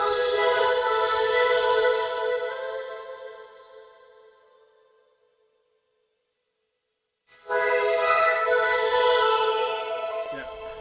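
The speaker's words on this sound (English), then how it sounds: "And then we got the main vocoder as well." A synthesizer vocoder plays rich harmonic tones that swell loudly, fade away into near silence, then return abruptly at full strength with a bright, buzzy texture.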